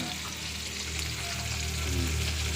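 Dried fish (tuyo) fries in a little oil, giving a dense, continuous sizzle close by with no talking.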